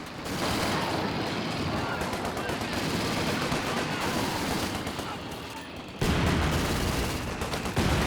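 Mortar and dense gunfire fill a Company of Heroes 2 battle, a continuous loud barrage of rapid shots and blasts, growing heavier near the end.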